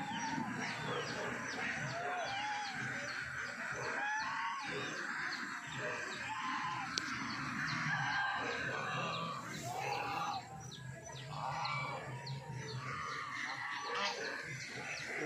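Chickens cluck and call in a busy, noisy yard, with a rooster crowing among them and other bird sounds in the background.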